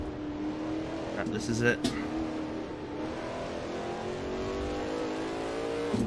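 Race cars drone around a fictional track in a sim racing game, with a steady engine whine that shifts pitch as gears change and someone talking over it.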